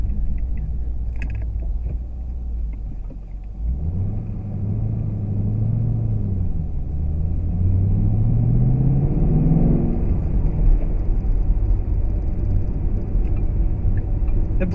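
A 2014 Shelby GT500 rolls along in second gear at about 20 mph, its engine giving a loud, deep, steady rumble close up, with a rising drone as it pulls away from low speed and then holds an even cruise.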